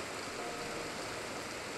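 Steady rushing water of a waterfall in the video game Shin Megami Tensei IV Apocalypse, a dense continuous broadband hiss with no breaks, moderately faint and heard alone.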